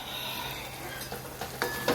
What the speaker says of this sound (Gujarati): સરસ આપણે કોરું વઘારી દીધું છે